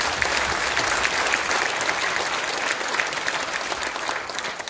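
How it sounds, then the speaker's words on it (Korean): Steady, dense applause from a large congregation at an Easter church service, sustained throughout without talking. "큰 박수 한번 격려합시다."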